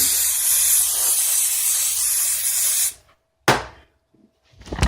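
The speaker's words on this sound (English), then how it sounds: "So let's take our brake clean and clean off the outside of the shock" Brake cleaner sprayed onto the outside of a Sway-A-Way 2.5 IFP coilover shock, a long loud close hiss for about three seconds, then a short sharp burst and a final brief spray.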